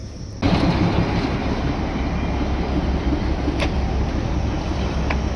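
Steady rumbling of the Darjeeling toy train and its engine at the Darjeeling railway station platform, a continuous loud broadband drone that starts abruptly and holds level, with a couple of faint sharp clicks.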